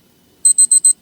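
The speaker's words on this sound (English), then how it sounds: "That's the alarm." An alarm goes off with four quick, sharp, high electronic beeps in a steady rhythm after a brief silence, close and loud.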